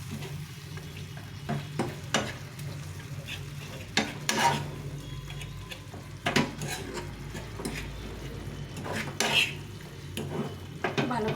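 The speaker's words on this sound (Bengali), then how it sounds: "সবটা ভালো করে ম্যাশ করে নিতে হবে" Tomato chutney being mashed and stirred in a pan, with a spoon scraping and tapping against the metal in irregular strokes over a low steady sizzle, close and moderately loud.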